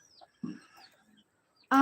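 Chickens give a few soft, scattered clucks close by, followed by one louder, drawn-out call at the end.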